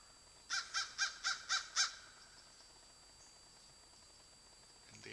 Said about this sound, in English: And there's a bird.